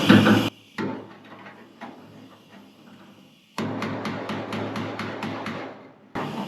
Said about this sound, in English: So I'm pushing up here, hammering on the buckle, hoping that goes forward again.